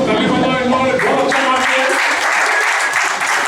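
An audience claps for two deputy directors at a Samanvaya program held on 14 August, a dense, steady round of applause filling the space, with some voices and music-like tones mixed beneath it.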